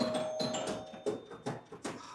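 Bright bells and chimes ring out from an old pinball machine in repeated short bursts, each strike followed by a ringing tail, sounding close and fairly loud against steady machine noise.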